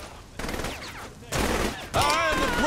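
A newly picked-up gun fires in Saints Row The Third, loud bursts of shots in three clusters that grow stronger toward the end.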